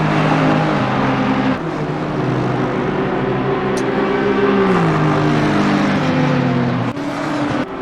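An Aston Martin GT3 race car engine drones loudly and steadily in Assetto Corsa Competizione at the Nürburgring, its pitch shifting slightly through gear changes, with other cars audible around it.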